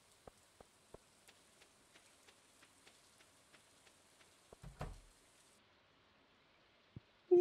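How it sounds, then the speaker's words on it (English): Rain falling in the farming game Stardew Valley, heard as a faint, steady patter with scattered light drops ticking at a regular pace and a brief louder splash near the middle, no voices. "Well, it's raining and it ain't going to dry up."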